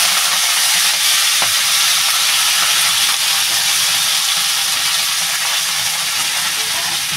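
Leafy greens (shaak) fry and are stirred in a pan, a continuous loud sizzling hiss with faint scraping, no voices.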